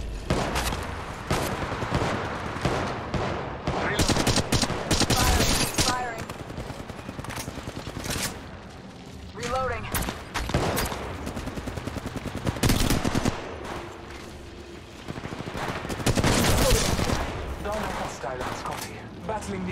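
Game combat from Apex Legends Mobile: repeated bursts of automatic gunfire and single shots, loud and close, alternating with short lulls, with character voice lines and other game sounds in between.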